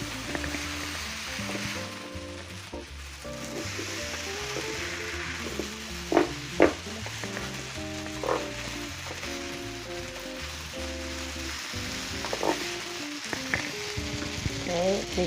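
Angel hair pasta sizzles and fries in oil in a pan, a steady close crackle with occasional sharper pops and stirring clatter through it.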